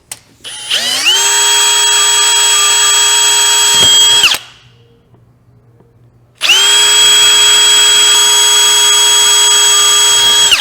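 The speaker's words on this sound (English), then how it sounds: "I'm just gently drilling the pilot holes in this acrylic." A power drill whines at high speed for several seconds while gently drilling pilot holes in acrylic, stops briefly, then starts again with the same steady, piercing tone.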